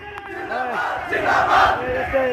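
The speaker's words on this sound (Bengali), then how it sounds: "দলে দলে সন্দ্বীপের মুসলমানেরা এভাবে প্রি প্যালেস্টাইন স্লোগান দিয়ে" A dense crowd of protesters in Sandwip chants Free Palestine slogans at a march, loud massed voices rising and falling in rhythmic shouts that swell toward the middle.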